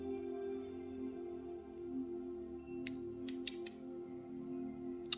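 A few quick, close snips of scissors cut off thread while tying a purple Amherst steelhead spey streamer fly, sharp clicks over a quiet low hum, no talk.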